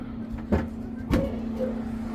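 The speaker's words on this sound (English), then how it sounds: "Seems like the blower motor's running." A steady motor hum with a low tonal drone runs throughout, from a furnace blower motor on a Day & Night unit, with a couple of brief clunks and rattles mid-clip.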